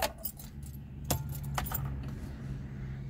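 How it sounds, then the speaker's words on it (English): Keys jingle and clink as a car key turns in the ignition, with a sharp metallic rattle at the start and another in the middle, then a low, quiet hum. "Just going to pop the ignition on."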